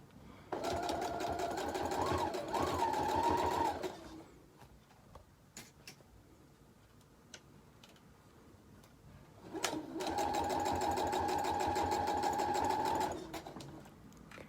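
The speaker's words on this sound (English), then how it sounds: "leave your needle down, lift your presser foot to turn, that way you don't lose your place" A domestic sewing machine stitches faux fur in two long runs of steady rapid whirring with a slight pitch wobble, separated by a quiet pause filled with small clicks and handling noises, close and fairly loud.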